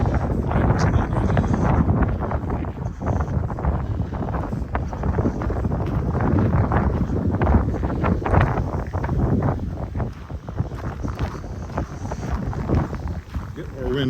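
Gusting wind buffets an external microphone on a snowy pre-dawn walk along a creek in Regina in December, a loud, constant low rumble with rustling surges throughout.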